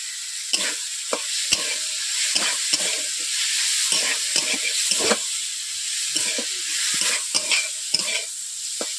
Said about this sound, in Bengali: আলুগুলোকে এইভাবে 2 থেকে 3 মিনিট আমি কষিয়ে নিচ্ছি।